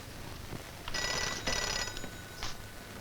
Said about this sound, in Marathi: थांबा, कुणाचा फोन आहे तो बघते